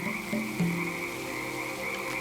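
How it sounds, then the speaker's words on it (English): Green tree frogs croak in a steady, continuous chorus, with a couple of louder, deeper close calls rising briefly over the constant trill. "The green tree frog,"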